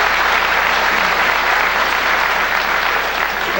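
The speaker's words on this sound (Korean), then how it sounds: "박수 부탁드립니다." Loud, dense applause fills a public hearing hall in Korea, a continuous even wash of clapping from a large seated audience with a faint low hum beneath it.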